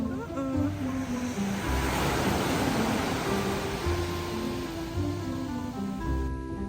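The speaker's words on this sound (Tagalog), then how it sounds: "Napakakalmado ng dagat." Gentle wash of sea surf swells and fades softly, with a faint buzzing insect hum over it and no talking.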